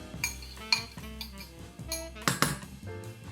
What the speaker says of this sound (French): je l'ajoute à la base et on va venir mélanger tout ça